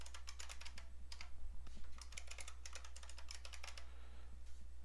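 A password being typed on a computer keyboard, quick bursts of light key clicks in irregular runs, faint against a steady low electrical hum.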